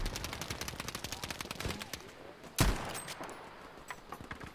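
Dense, rapid gunfire from a Battlefield V match rattles almost continuously, with a sharp, louder crack near the middle that stands out like a sniper rifle shot, followed by scattered distant shots.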